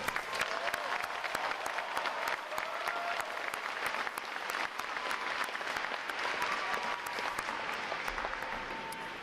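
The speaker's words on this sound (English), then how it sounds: "How about a round of applause for outstanding service?" Crowd applause at a Navy boot camp graduation ceremony honoring service, sustained crisp clapping from many hands, even and steady throughout, heard at a moderate distance with no talking over it.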